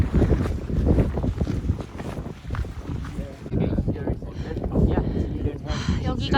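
Strong wind gusts roar across the microphone at a volcano's sunrise viewpoint in Indonesia, loud and buffeting the whole time, while a person talks through it.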